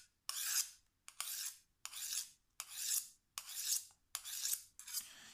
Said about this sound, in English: it's easier to use to sharpen the kitchen knife